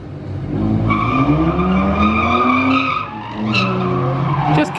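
Nissan 350Z spinning out on a track, tyres squealing loudly and steadily with a sweeping, rising pitch, engine droning underneath, briefly easing before another squeal near the end.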